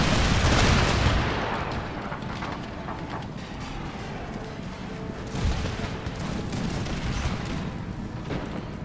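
Musket volleys from the Empire Total War Empire 2 mod crackle in a dense, rolling fusillade, loudest in the opening second and again about midway, with continuous battlefield rumble between the shots.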